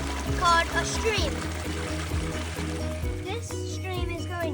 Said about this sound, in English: This stream is going under this big tree